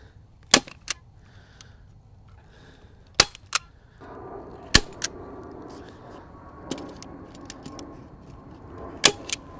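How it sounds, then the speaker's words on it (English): A staple gun fastens insulation onto a nucleus beehive during winter preparation, firing about eight sharp, close, snapping clacks at irregular intervals, some in quick pairs, over faint rustling. "It'll be okay till I hit it with this staple gun"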